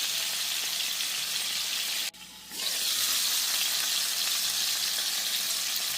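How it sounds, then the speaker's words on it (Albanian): Pieces of fish frying in hot oil in a covered pan give a loud, steady, close sizzle that dips sharply for a moment, then returns at full strength. "Po vazhdoj t'i skuq me kapak të mbyllur."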